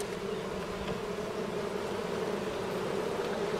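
Honey bees swarm around a hive frame in a dense, continuous buzz that stays steady and close the whole time, with no voices over it.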